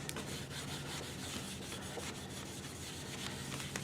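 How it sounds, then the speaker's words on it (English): Steady, quiet scratchy rubbing of steel wool over a wooden bowl, a continuous back-and-forth abrasion up close with no talking. "the steel wool, which doesn't clog really easily"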